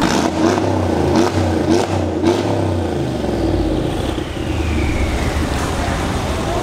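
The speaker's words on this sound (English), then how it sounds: "Remo with his kick-ass G-Wagon, and the sound of the exhaust will make you crazy, guys." A Mercedes-Benz G55 AMG G-Wagon on a Mumbai street, its exhaust rising in a loud, close rev and gruff burble as it pulls away among passing traffic.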